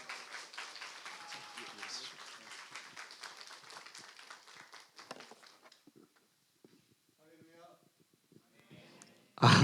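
Applause from a church youth retreat congregation at an evening worship service welcoming the pastor, a steady patter of many hands that fades after about five seconds into quiet, with a loud burst at the very end.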